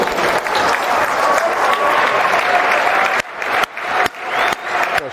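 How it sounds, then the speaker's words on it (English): A football stadium crowd at Millwall applauds a women's Player of the Season award winner on the pitch, loud sustained clapping from many hands with a brief dip and swell near the end. "Please give a big round of applause for Sophie Chapman."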